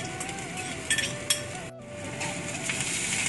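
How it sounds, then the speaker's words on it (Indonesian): Coriander leaves are stirred into a cooking pan for coconut rice, giving soft scraping and light metallic clinks over a faint sizzle, moderately close, with brief louder clinks. "kacau selama 2 saat"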